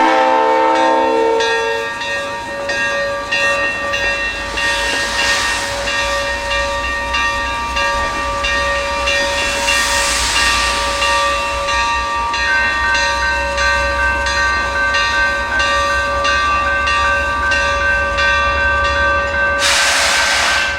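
San Luis and Rio Grande Railroad locomotive number 18, a GE B39-8E diesel, backs out of a storage track near the depot, its steady engine drone and hissing air carrying loudly through the clip with a sharp burst near the end.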